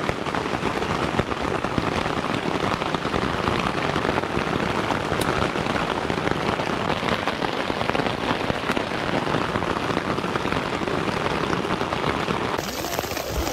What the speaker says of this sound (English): it is raining like crazy. Hard rain.